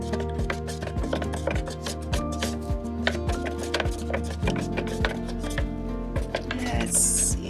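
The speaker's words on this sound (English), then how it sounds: "Give it a stir, see what we got." A stick stirring acrylic pour paint mixed with Valspar in a cup: steady, rhythmic knocks and scrapes, close and fairly loud, repeating quickly throughout.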